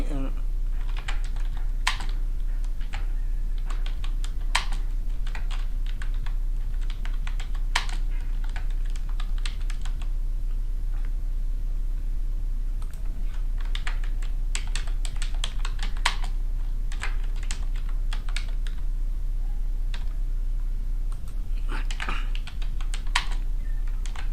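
Steady rapid typing on a computer keyboard, close and continuous with clustered bursts of keystrokes, set against a constant low hum, with a voice speaking intermittently over it.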